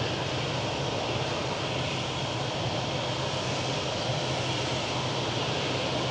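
An EasyJet airliner takes off over mountains in Lanzarote, heard as a distant, steady broadband roar of jet engines that holds evenly throughout with no other sounds.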